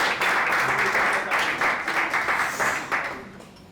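A comedy club crowd in Kinshasa breaks into loud, sustained applause for comedian Hussein Sengo, a dense wash of clapping that swells and then slowly thins out.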